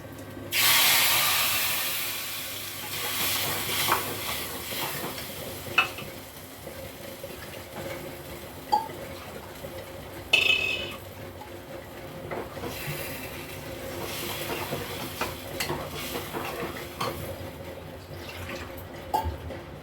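A burst of sizzling as ground spice paste hits hot oil with cumin seeds, then quieter continuous frying with occasional clinks and pops, no voices.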